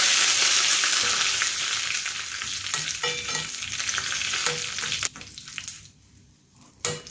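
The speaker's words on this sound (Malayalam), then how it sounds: "ഇതിലേക്ക് രണ്ട് മുളക് ഇട്ട് കൊടുക്കാം കുറച്ച് കറിവേപ്പില ഇട്ട് കൊടുക്കാം" Loud sizzling of chillies and curry leaves frying in hot oil, intense at first, then settling, with a few stirring clinks and a sudden drop near the end.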